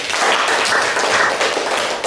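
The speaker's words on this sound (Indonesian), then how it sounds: "Beri tepuk tangan untuk kelompok 2." A class claps steadily for a couple of seconds after a group presentation, a dense, even patter of applause from many hands in a room.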